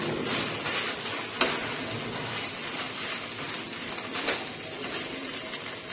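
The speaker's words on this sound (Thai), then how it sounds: "เมื่อกะปิเราเริ่มหอมค่ะข้าวลงไปคลุกเลยค่ะ" Cooked rice tossed with fragrant shrimp paste in a hot pan, a steady soft sizzle with scraping stir strokes and a couple of small clinks.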